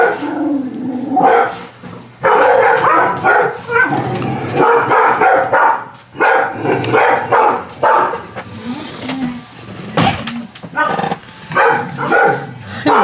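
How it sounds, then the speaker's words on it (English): A dog barking repeatedly in a home during a crochet session, with loud, close barks, yips and whimpers in irregular bursts throughout, mixed with some voices. "Dog interruptions."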